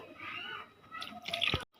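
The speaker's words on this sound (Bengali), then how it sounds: "পানি দিয়ে দিই" Water is poured into a bowl of squeezed lemon juice, a short close trickle that builds into brighter splashing before stopping abruptly.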